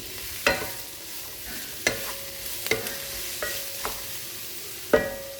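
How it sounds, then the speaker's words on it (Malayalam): Green chilli, onion and shallots sautéing in a pan, a soft sizzle broken by several sharp clinks of a spoon stirring against the metal, close and fairly quiet. "പച്ചമുളക്, ഉള്ളിയും കൊച്ചുള്ളി ഇത് നന്നായിട്ട് വഴറ്റിയെടുക്കാം."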